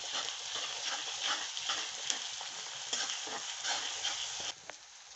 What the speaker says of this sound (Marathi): आलं लसूणची जाडी भरडी अशी पेस्ट केलेली आहे, ती पण चांगली अशी परतून घ्यायची.